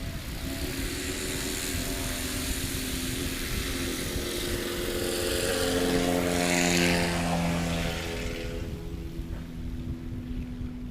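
A light STOL competition airplane flies past, its propeller engine drone steady and fairly loud throughout, swelling a little as it nears mid-clip and easing off toward the end.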